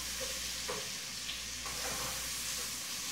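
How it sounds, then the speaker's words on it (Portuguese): Linguiça sausage sizzles and fries in a pan with garlic and onion, a steady, close, moderately quiet crackling hiss with occasional stirring sounds. "Esperar fritar um pouquinho a linguiça."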